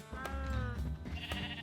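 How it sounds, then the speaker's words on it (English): A sheep in the Minecraft video game bleats several times in quick succession, close and clear, with a few short sharp clicks between the calls. "Oh wait, no, there's a sheep there."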